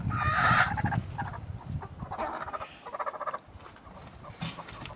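A brooding hen set on eggs clucks in a low, throaty burst up close, followed by softer scattered clucks and rustling, with no talking.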